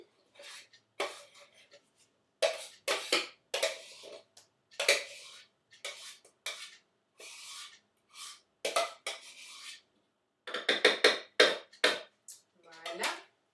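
Mascarpone cream is folded with beaten egg whites in a bowl, a series of soft scraping, clinking utensil strokes in uneven bursts separated by short pauses, close and fairly quiet.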